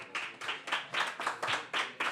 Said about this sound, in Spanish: un aplauso a João Rosas